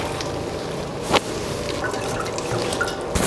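Liquid from homemade beer mash drips and trickles continuously as it is filtered, with a steady wet patter and an occasional louder splash, close by and with no talking.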